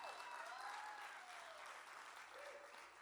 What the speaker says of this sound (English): Can we get a huge round of applause for Carrie, please?